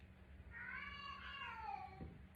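A single cat's meow, drawn out and rising then falling over about two seconds, heard clearly indoors over a low background hum, with no talking.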